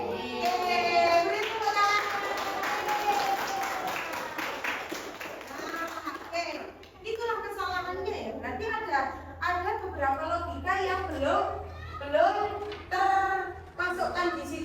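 Children in a coding lesson clap their hands in a quick burst of rhythmic claps, followed by an adult speaking over faint classroom noise.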